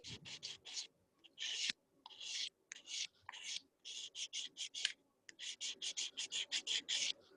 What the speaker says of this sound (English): You're going to come in with the coarse side of your sanding block